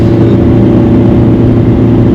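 A diesel car engine revs on the Nürburgring, heard from inside the car. It is a loud, close, steady drone with a strong low hum and no pauses.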